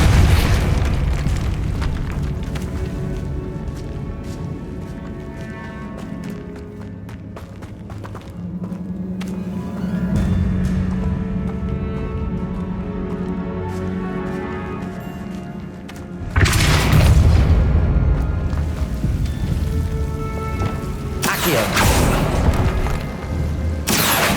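Spell blasts from the Depulso force charm in the video game Hogwarts Legacy, heavy booming bursts over a continuous game soundscape, with a strong thud near the middle and another blast toward the end.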